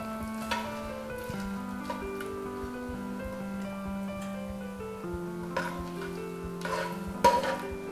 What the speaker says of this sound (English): Just keep stirring. And just when the butter is all melted